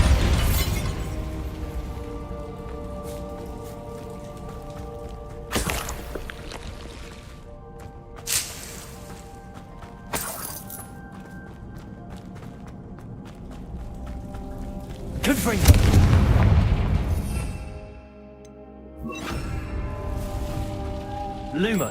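A Bombarda explosion spell cast in Hogwarts Legacy, set among other spell impacts and scattered game sounds, with one loud, broad blast roughly two-thirds of the way through.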